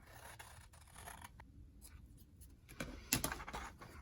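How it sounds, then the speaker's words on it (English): Scissors snipping through paper while a notebook is being crafted, a series of quiet, close crisp cuts and light scraping, with a sharper cluster of snips near the end. "now I'm just gonna cut this out"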